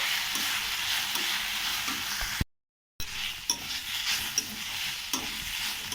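Drumstick flowers fry in a pan with cumin, coriander and pepper powder, giving a steady close sizzle with scattered stirring clicks that cuts out briefly in the middle before resuming.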